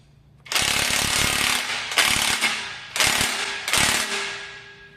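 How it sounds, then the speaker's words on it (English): Four close, loud rattling hammer bursts from a cordless impact wrench doing final tightening, the first longest and the rest shorter, separated by brief pauses. "Final tighten up with the Temu cordless impact."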